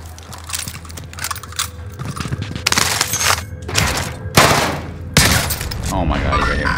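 Bursts of gunfire from a Rebirth match in a video game ring out loud and close, with several sharp volleys and rapid fusillades, while players talk excitedly over the shooting.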